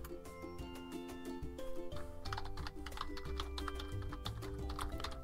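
Rapid clicking of computer keyboard keys as a password is typed, a quick, fairly even run of close taps over a steady background of tonal hum and music-like tones, with no voices.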